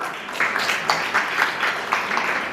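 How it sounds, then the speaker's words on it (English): Applause from a school audience welcoming the first participant of an inter-school declamation contest onto the stage: a steady, dense patter of many hands for under three seconds with no voices. "Please give a big round of applause."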